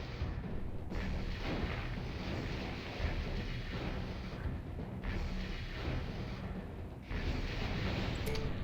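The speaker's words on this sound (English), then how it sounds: "I'm taking enemy fire." Enemy weapons fire in the MechCommander game pounds as a continuous heavy, rumbling barrage of blasts and booms, loud and dense throughout with brief dips between volleys.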